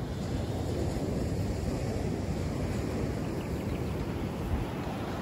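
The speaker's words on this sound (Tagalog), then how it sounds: "Sobrang lakas ng alon." Heavy surf roars continuously at a beach in Zambales, Philippines, a dense wash of crashing ocean waves with wind buffeting the microphone, loud and unbroken throughout.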